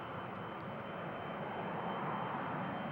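A KLM Embraer jet departs runway 36L at Schiphol Airport, giving a loud, steady broadband engine roar that holds evenly throughout with no talk.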